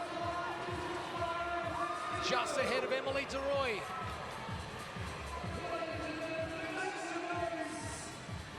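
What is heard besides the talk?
crowd cheering at a women's CrossFit competition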